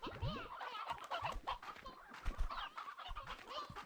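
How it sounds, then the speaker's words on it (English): Chickens in the Slime Rancher 2 video game cluck in quick, repeated bursts close by over a busy bed of game ambience, with several birds calling one after another. "You know, the chickens."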